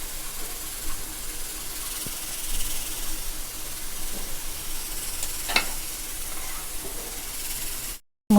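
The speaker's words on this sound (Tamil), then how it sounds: "முந்திரி வறுத்து நெய்யில் அப்படியே கொஞ்சம் ஊற்றிக்கலாம்." Cashews fry in ghee with a steady, close sizzle and hiss, broken by a few soft pops and crackles before the sound cuts off abruptly.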